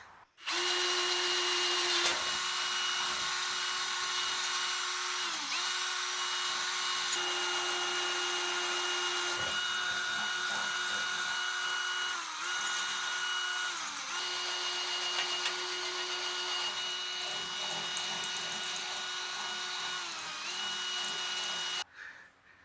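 A power drill whirs loudly and steadily at close range for a long stretch while drilling holes in a Harbor Freight tool cart, its motor pitch dipping briefly as it bites in, then stopping abruptly.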